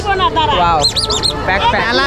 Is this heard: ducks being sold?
yes